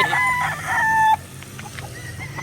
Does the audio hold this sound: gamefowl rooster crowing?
yes